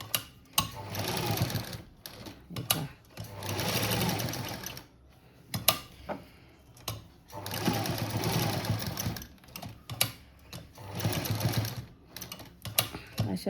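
A sewing machine stitching a cutwork blouse sleeve runs in steady whirring bursts of a second or two, stopping and restarting repeatedly, loud and close, with the needle turned in a circle.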